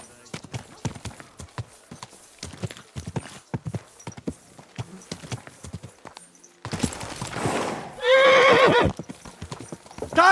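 Horse hooves clip-clop steadily in the Kingdom Come: Deliverance II video game, then a loud close neigh and whinny rises near the end, with voices talking over parts of it.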